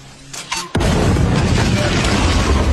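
A C4 charge detonates on a house roof, blowing a large hole with a sudden loud boom that cuts in after a few quieter knocks and then holds as a dense, sustained roar of blast and debris.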